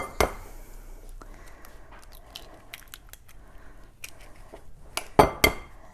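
Two eggs are cracked into a chocolate stout cake batter with sour cream. Sharp cracks and clicks of shell against a bowl stand out clearly, with a couple of close, crisp snaps near the end.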